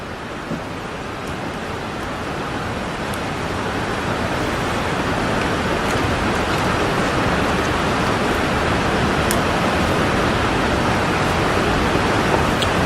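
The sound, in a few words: rain falling outside the building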